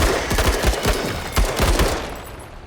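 A squad opens up on a swarm of bugs in a tactical game, rapid gunfire in quick overlapping bursts, close and loud, trailing off into a fading hiss at the end.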